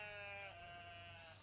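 A sheep bleats in one long, wavering call that holds steady for over a second, close and clear against a low background hum.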